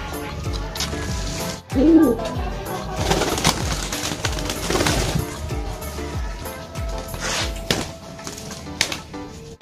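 Pigeons of the losdor racing type coo softly amid a busy loft, with a brief louder call near the start and people talking over steady background noise.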